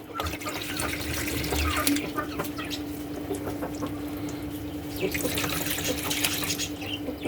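Steady splashing of water pouring continuously from a bottle into a container, close and fairly loud, with no talking over it.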